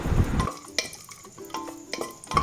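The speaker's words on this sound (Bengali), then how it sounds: "ভালো করে নাড়াচাড়া করে আস্তে আস্তে ভেজে নিলাম কিশমিশগুলো" Raisins frying in ghee in a pan, stirred with a spoon in scraping strokes and a few light clinks, a soft sizzle underneath, close and fairly loud with no talking.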